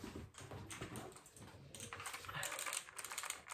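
Rapid clicking keystrokes on a new computer keyboard, typed close by in a steady flurry of light taps with no voices present.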